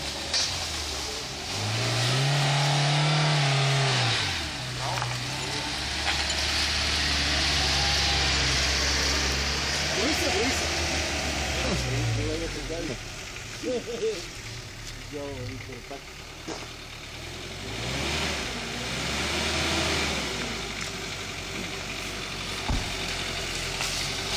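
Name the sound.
off-road car engine revving on a mountain track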